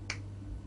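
A single crisp finger snap near the start during a hypnosis session, short and close, then a quiet room with a low hum.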